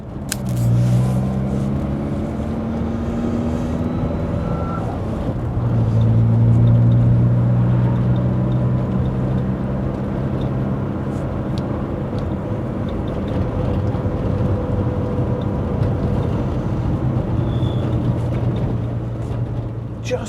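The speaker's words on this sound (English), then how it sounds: "listen to the engine as you go along, get to know the revs, and enjoy that turbo" A Saab 900 Turbo 16S's engine and turbo drone steadily from inside the moving car, a loud continuous rumble with shifting tone as the revs rise and fall.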